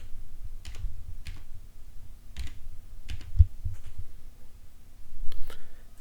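Computer keyboard keys are tapped in sparse, irregular clicks over a low steady hum, faint and close, no speech.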